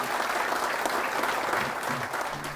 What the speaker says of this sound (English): So I'd actually give them a round of applause and just say thank you.